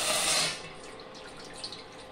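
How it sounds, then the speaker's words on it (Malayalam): Water gushes into a cooking pot on an induction cooker in a short loud splash, then settles into a faint trickle and quiet background hiss. "അതിനുശേഷം വെള്ളം ഒഴിച്ചു കൊടുക്കുക."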